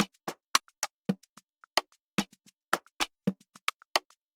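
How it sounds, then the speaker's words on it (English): An Afro drum loop from the Killer Tunes sample pack plays alone, crisp dry hand-drum and percussion hits in a bouncy syncopated groove, short sharp strikes with clear gaps between them. "For the drums, I just went over to the pack and picked up this loop."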